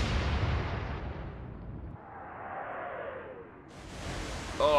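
A naval gun fires in the Atlantic Fleet battle game, a heavy booming blast that decays into a long rumbling roar and a distant whistling tail, then a sharp new noise at the end.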